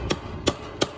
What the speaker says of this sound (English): I'm trying to hammer